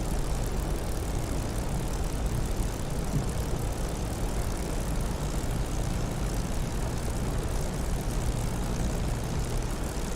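A Spitfire's engine runs in a flight sim before takeoff, a loud, steady propeller and engine drone with a rough low rumble that stays constant throughout.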